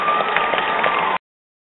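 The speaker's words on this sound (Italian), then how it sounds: "vorrei fargli un applauso personalmente" Dense, steady audience applause at the XXV Festa dei Lou Dalfin, a sustained wash of many hands clapping for Daniela that cuts off abruptly after about a second.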